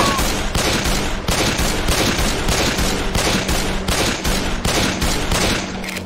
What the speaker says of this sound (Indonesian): Tembak, tembak dia tu, tembak dia.